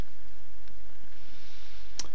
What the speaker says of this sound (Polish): klikamy prawym przyciskiem myszy i wybieramy opcję Blending Option.